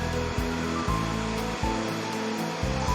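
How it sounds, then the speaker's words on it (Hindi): Water flows in a steady, continuous rush, like a stream or waterfall, with a low pulsing rumble underneath and no voices over it. "पानी की आवाज"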